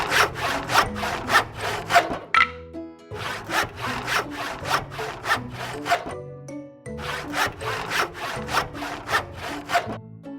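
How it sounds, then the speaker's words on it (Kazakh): A hand saw cuts through wood in fast, even back-and-forth rasping strokes, close and loud, in two runs separated by a short pause, with no voices. "Бұл ара. Ара кеседі, аралайды."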